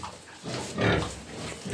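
A sow gives a short run of low, rough grunts close by, rising to one louder snort in the middle.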